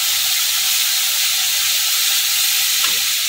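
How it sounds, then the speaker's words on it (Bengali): Ground spices, including chili powder, fry loudly in a pan with a little added water for a bhetki fish curry, making a dense, continuous close-up sizzle and hiss with no pauses. "একটুখানি জল দিয়ে দেবো, নাহলে গুঁড়ো মশলাগুলো পুড়ে যাবে। ভালো করে মশলাটাকে কষাবো।"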